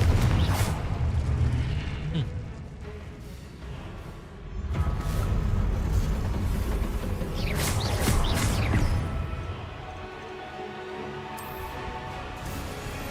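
Confringo fire spell blasts in the game Hogwarts Legacy: deep booms and rumbling bursts with whooshing swells, repeated over several seconds beneath a speaking voice.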